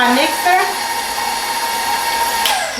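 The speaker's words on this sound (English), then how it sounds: "I'm going to get my mixer going and cream that all together." An electric mixer running on medium creams ingredients for a marble pound cake, giving a continuous high, buzzing whine throughout with little change in level.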